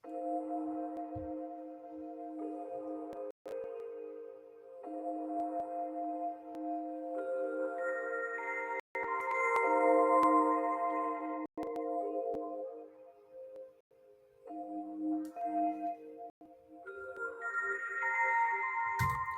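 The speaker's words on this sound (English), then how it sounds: "it's almost like a church bell that's been saturated and had a lot of reverb added to it" Sustained, bell-like synth pads resembling a church bell swell and shift in layered tones, heavily saturated and washed in long reverb, with occasional sharp clicks between chords.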